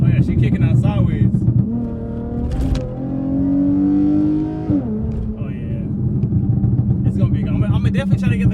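A car slides sideways on a rain-soaked road, its engine revving and holding a sustained whine, with someone talking excitedly over the engine.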